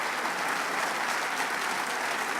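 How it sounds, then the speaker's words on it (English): Applause from an audience at a governor's economic development funding announcement, a dense, steady clapping that stays loud and even throughout with no voices on top. "Let's give a big round of applause to Maria"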